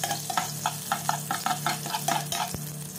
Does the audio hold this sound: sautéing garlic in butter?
yes